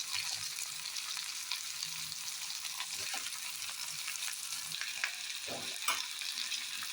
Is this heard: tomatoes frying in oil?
yes